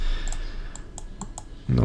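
Computer keyboard tapped while working in Photoshop, a handful of light, close clicks spaced unevenly, followed by the start of speech.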